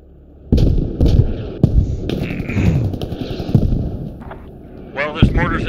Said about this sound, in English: there's mortars in there in the air on their way